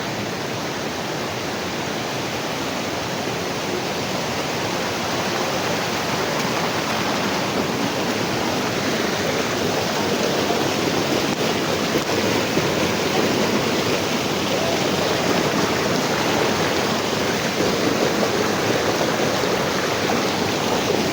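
Powerful rushing water of a river or waterfall roars as a loud, continuous broadband wash, close and unbroken for the whole stretch, swelling slightly toward the end.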